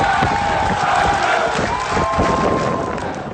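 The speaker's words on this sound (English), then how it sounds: "Listen to the fucking crowd of the soldiers that were serving underneath him, who were so grateful." A crowd of soldiers cheering and applauding their fired commander, a dense continuous roar of many voices at steady loudness, with a tone running through it.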